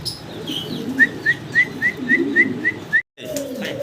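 Pigeons coo in low murmurs beneath a steady series of about eight short, evenly spaced chirps, close and fairly loud.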